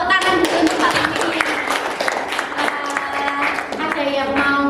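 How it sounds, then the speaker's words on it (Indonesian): A classroom of students claps for their male teacher during a math lesson, a burst of scattered applause mixed with children's voices and talk. "tepuk tangan dulu untuk Pak"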